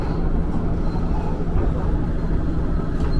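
A KRL commuter train rolls into platform 5 at Manggarai station, a steady low rumble of wheels and motors filling the station throughout, close and continuous with no clear pauses.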